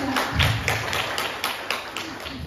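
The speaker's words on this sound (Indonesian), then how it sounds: "Beri tepuk tangan yang luar biasa untuk narasumber" A seminar audience claps for a guest speaker, a short burst of light, fairly close hand claps with distinct taps, fading after a couple of seconds.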